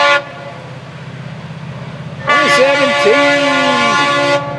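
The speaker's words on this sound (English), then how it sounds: "There's a train scampering for home." A Florida East Coast Railway local freight train rumbles past nearby, its horn sounding loudly in long tones partway through, with a person briefly exclaiming.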